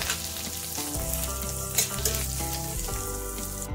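Whole cumin seeds, chopped green chili and ginger fry in a pan with a steady, close sizzle that holds at an even level throughout.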